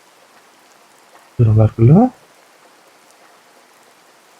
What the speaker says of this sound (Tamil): மழை கொஞ்சம் ஸ்லோ ஆயிடுச்சு.